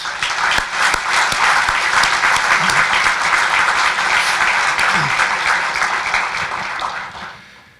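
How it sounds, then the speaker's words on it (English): Audience applause for Fine Arts Department musicians at a college presidential inauguration ceremony, a dense, steady wave of clapping that holds loud for several seconds and then tapers off near the end. "Let's give them a round of applause, please"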